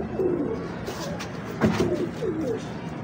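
Young Dabawale pigeons, a breeding pair, coo softly and repeatedly from close by, with low rolling calls repeating over about three seconds and no talk.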